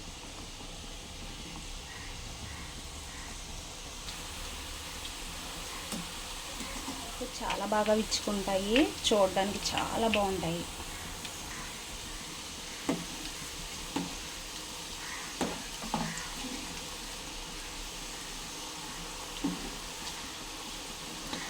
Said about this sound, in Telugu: ఇప్పుడు ఈ పనస్తనల్ని ఫ్రై చేసేసుకుందాం